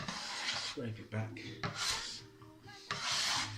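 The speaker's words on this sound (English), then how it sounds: "getting under the dough, rotating it, turning it, and then you just work it again" Bread dough being scraped back and kneaded by hand on a work surface, with rasping scrapes and soft rubbing strokes in uneven bursts, close up, while a voice talks over it.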